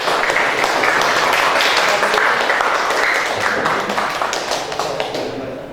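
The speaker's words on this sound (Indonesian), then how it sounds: "beri aplaus" Audience applause in a mechanical engineering classroom, a steady dense wash of many hands clapping that holds for several seconds and then slowly thins and fades.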